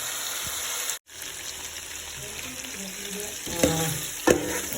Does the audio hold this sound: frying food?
yes